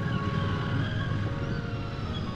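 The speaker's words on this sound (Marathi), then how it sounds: "हा जो GTचा आवाज आहे एवढा सेक्सी आहे." A Royal Enfield Continental GT 650 motorcycle runs with its engine and exhaust giving a steady, low, continuous rumble, close by and even in level throughout.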